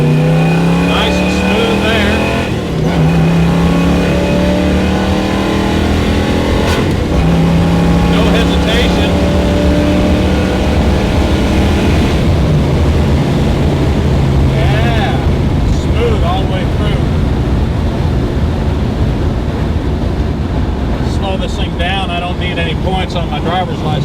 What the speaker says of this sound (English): I'm going to run this thing up through the gears at wide open throttle